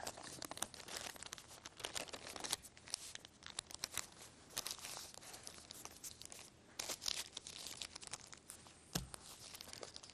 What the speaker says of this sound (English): proceed with taking a little piece of paper and rolling up the deck in this manner